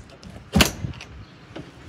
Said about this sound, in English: unlock the back door